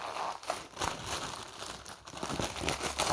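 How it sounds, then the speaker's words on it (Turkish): A trading card pack wrapper is torn open, with continuous close crinkling and crackling of the foil packaging by hand. "Hemen paketimizi açalım. Açıyorum."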